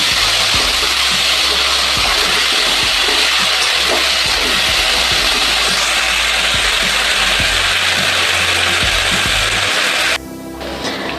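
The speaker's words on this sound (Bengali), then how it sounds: "এবার আমি নাড়াচাড়া করে নিচ্ছি।" Masala being stirred and cooked down in a pan: steady, loud scraping and sizzling with a regular rhythmic clatter of the spoon, stopping abruptly near the end.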